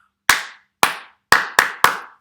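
Five sharp, close hand claps in an uneven rhythm for a primary school music game, each crisp clap ringing briefly in a quiet room.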